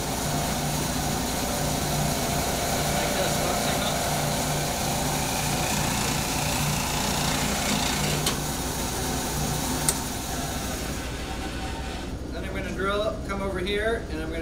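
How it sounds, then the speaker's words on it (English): Power drill boring into wood, its motor whining steadily at close range for about eleven seconds before stopping, with a voice heard briefly afterward. "I'm going to drill right there"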